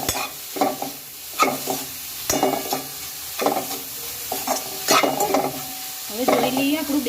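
A spatula stirs gram flour with green chillies in a pan: irregular, close clattering strokes over a light sizzle, with no voices.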